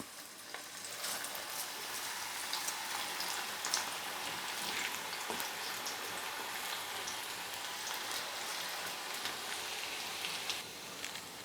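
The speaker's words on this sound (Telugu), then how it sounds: "పకోడీలు వేగుతున్నప్పుడు కూడా మనం స్టవ్ని హై ఫ్లేమ్లో పెట్టుకుని వేయించుకుంటేనే మనకి పకోడీలు క్రిస్పీగా వస్తాయి" Amaranth leaf pakodi fritters frying in hot oil over a high flame, a continuous dense crackling sizzle with scattered pops, steady throughout.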